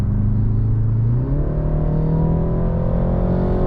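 A 2020 BMW 330i accelerates onto a highway with a loud, close engine drone from inside the cabin, rising smoothly in pitch after a brief shift, over steady road rumble.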